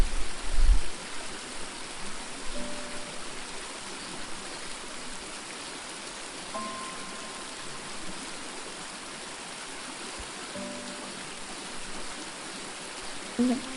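Water runs in a steady, even rush inside a newly built house, continuous and moderately loud, with a few faint knocks and no talking.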